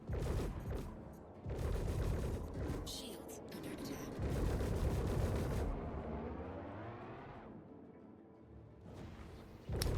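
Three gimballed size 3 ballistic guns on a spaceship in Star Citizen 4.3.1 PTU, firing in rapid, chattering bursts in several volleys separated by short pauses, with a steady engine hum between them.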